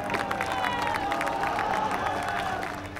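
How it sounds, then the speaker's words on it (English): A crowd roars and cheers as a survivor is pulled from earthquake rubble, a dense, loud wash of voices, shouts and applause-like noise holding steady throughout. "It's massive roar and cheering just goes up."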